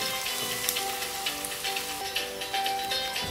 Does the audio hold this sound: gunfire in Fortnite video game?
no